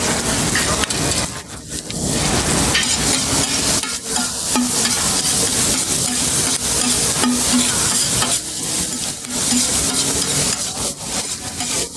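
Fish, vegetables, spices and sauce fry together on a giant steel street-food griddle in Chongqing, a loud, continuous sizzle broken by the scrape and shuffle of stirring. No one speaks.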